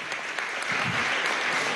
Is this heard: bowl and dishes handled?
no